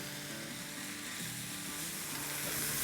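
Potato fries frying in oil over a high flame, a steady loud sizzle that fills the whole stretch without a break and with no voices over it.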